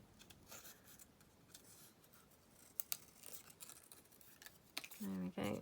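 Scissors snipping card blank made with acrylic die cuts: faint scraping and a few crisp cuts close by, under soft room noise, with a voice speaking briefly at the end.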